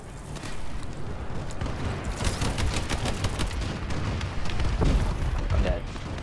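An airstrike bombing run in Call of Duty: Advanced Warfare multiplayer pounds the map with continuous rumbling explosions and crackling gunfire, a dense barrage of booms under steady battle noise.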